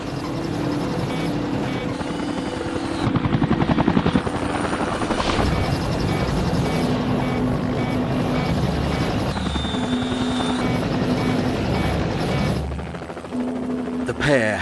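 A rescue helicopter hovers low in howling winds over rough water, its winch jammed. The loud rotor roar runs continuously throughout, with brief shifts in tone.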